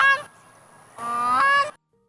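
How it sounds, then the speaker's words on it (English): Two loud, brassy honking calls from a grey-crowned crane, the first short and the second longer, close and clear against quiet. "Grey-crowned crane."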